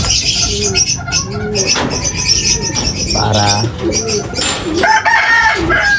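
Racing pigeons coo in repeated low rounded calls during a training release, loud and close. A rooster crows now and then behind them, and a voice speaks briefly.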